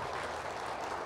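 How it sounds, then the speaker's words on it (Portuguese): A church congregation claps together in steady, dense applause, heard faint and distant as a soft continuous patter with no voices over it. "Uma salva de palmas para eles"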